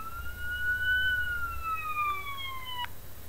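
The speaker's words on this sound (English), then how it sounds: "Let's get a siren." A single police siren sound effect wail slowly rises and falls in pitch, loud and clear, then cuts off abruptly.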